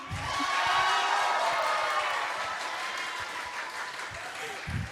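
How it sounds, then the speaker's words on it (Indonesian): Students at a school fill the space with sustained applause and crowd noise, steady and loud for the whole stretch, easing slightly toward the end, with voices mixed in. "tepuk tangannya."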